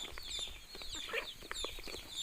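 Several native country chickens for sale cluck and cackle nearby in quick, overlapping bursts.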